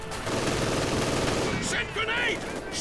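Short burst of MG42 machine gun fire in the strategy game Company of Heroes 2, heard amid battle noise with a commentator talking over it.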